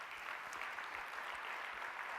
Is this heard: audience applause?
yes